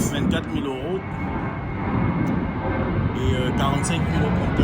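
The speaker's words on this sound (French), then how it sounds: "En plus il y a des avions qui passent. Parce qu'on est près de l'aéroport d'Orly." Airplanes pass near Orly airport, their steady engine rumble running loud underneath someone speaking close by outdoors.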